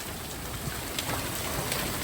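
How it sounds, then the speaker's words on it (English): Golf-ball-size hail pelting down in a severe thunderstorm, a dense, steady wash of close, loud impacts with brief sharper hits scattered throughout, no voices. "There's the hail."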